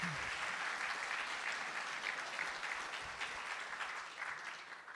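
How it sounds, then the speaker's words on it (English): Audience applause at a Havdalah gathering, a dense, steady clapping from a crowd that holds evenly for about five seconds and tapers slightly at the end. "A round of applause, please."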